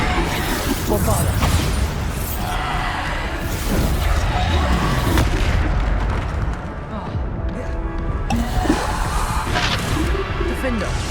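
Spell explosions and crashing impacts from Hogwarts Legacy combat, loud and dense, booming repeatedly over game music and effects for the whole stretch, with a voice calling out spell names.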